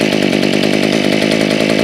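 Maruyama MM24 engine running loud and close right after its first pull start, a steady buzzing two-stroke drone with a fast, even pulse throughout.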